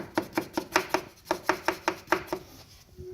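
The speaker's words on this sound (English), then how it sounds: "if you're hearing a rattle in your front end after doing a pinch mod weld" A loose flapping part in a Jeep Cherokee KL Trailhawk front end after a pinch weld mod makes a repeated hollow knocking rattle, about a dozen sharp hits in an uneven rhythm, close and fairly loud, then a steady low tone.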